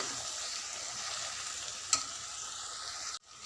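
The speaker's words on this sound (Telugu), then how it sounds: "చామదుంపలు కూడా కొంచెం లైట్గా ఫ్రై అవ్వనివ్వాలండి" Taro roots lightly frying in a pan for a taro tamarind curry, a steady close sizzle with a single utensil scrape partway through, then a sudden drop near the end.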